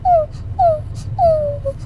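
A person imitates a needy puppy's whimper with their voice: three short, high, descending whines in quick succession, close and clear against a quiet background.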